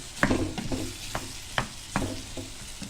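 Meat and onions sizzle steadily in a frying pan with sauce, while a spoon scrapes and stirs in several distinct strokes, close and fairly loud.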